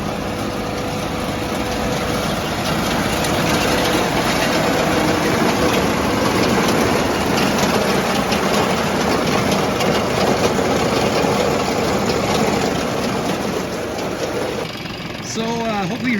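A New Holland 479 haybine runs after its knife assembly has been welded, producing a loud, steady mechanical drone with rattling and clatter that holds unbroken for the whole stretch.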